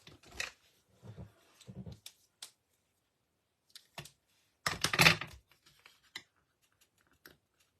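Paper trimmer cutting cardstock for a handmade masculine card, giving a few short quiet slicing and clicking strokes separated by pauses, with one louder burst of cutting near the middle.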